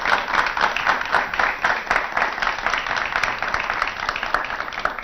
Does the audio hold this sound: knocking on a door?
no